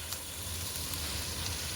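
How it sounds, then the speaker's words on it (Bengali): Spices for a prawn, potol and potato curry, cooked without onion, sauté in a pan with a soft, steady sizzle and faint crackles, close by and fairly quiet throughout. "এখানে আমি মশলাটা কষিয়ে নিচ্ছি, পটল আলু চিংড়ি মাছ বের করার জন্য।"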